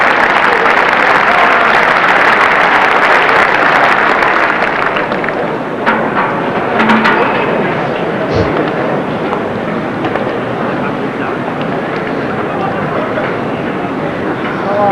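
Crowd applause from spectators at the 1988 Waterloo bowls match, Vernon Lee versus Allen Broadhurst, a steady dense clatter of clapping filling the whole stretch and thinning slightly partway through, with brief sharper claps standing out.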